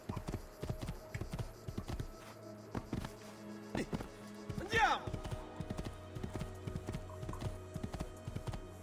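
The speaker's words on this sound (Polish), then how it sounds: "Ktoś tu w polu pracuje, a ja mu depczę w tym polu koniem." Horse hooves clip-clop steadily through a field in Assassin's Creed II, a rapid rhythmic gallop with a brief whinny midway, under a woman's chatter and laughter.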